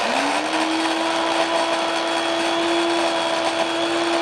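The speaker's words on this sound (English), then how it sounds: "And then let's add the coffee grinder." An electric coffee grinder runs with a loud, steady high-pitched whine that rises as it spins up and then holds constant.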